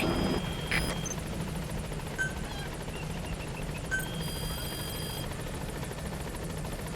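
The Pequod helicopter arrives at a landing zone in Metal Gear Solid V, a steady low rotor drone with faint rhythmic chopping and scattered electronic beeps on top.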